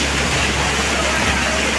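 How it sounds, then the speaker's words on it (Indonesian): Small hailstones fall with wind and rain in Malang city, making a dense, steady hiss and patter that stays loud and unbroken throughout. "Hujan es, sawo jajar hujan es."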